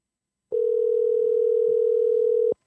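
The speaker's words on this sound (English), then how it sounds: "See if that phone's ringing on the blue." A steady telephone line tone during a call on a live radio show sounds as one unbroken, loud, even hum for about two seconds. It begins and ends abruptly, with no talk over it.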